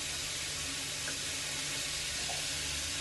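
Ginger, garlic and tomatoes frying in a pan for matar paneer make a soft, steady sizzle with a faint hiss, quiet and continuous, with no voices over it.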